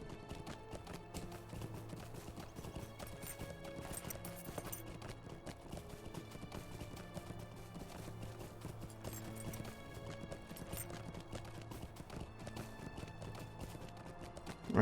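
Horse mount galloping in Lord of the Rings Online, a steady, continuous patter of hoofbeats at low volume over a layered game ambience, with no pauses across the whole stretch.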